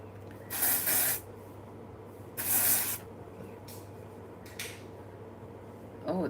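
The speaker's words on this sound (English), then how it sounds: "This is the Soap and Glory dry shampoo." Soap and Glory dry shampoo hisses from an aerosol can in several short, close bursts, two longer sprays and a few quick puffs, separated by quiet pauses.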